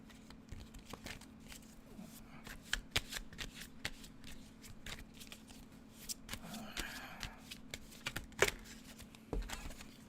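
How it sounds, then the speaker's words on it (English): Quiet, close riffling and tapping of a tarot card deck being shuffled, with irregular soft flicks and clicks over a low steady hum. "let me go ahead and give this deck a bit of a shuffle"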